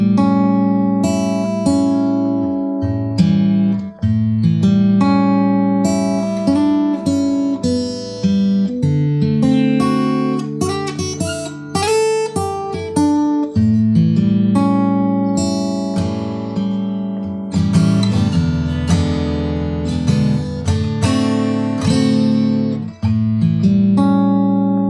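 Electric guitar playing a blues progression built on dominant 7th chords, strummed and picked steadily with sustained ringing chords and melodic fills, loud and continuous with no talking.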